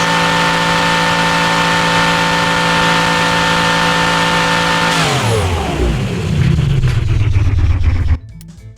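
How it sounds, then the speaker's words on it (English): A 4000 HP V16 car engine in the Automation game holds a loud, steady high-revving whine, then winds down sharply to a rough, rumbling idle before cutting off abruptly. "This engine is an absolute beast."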